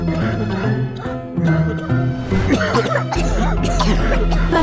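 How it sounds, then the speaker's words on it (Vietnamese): Coughing repeats in loud, close bursts over continuous background music, with a faint jingle in places. "Ho gì mà ho nhiều thế?"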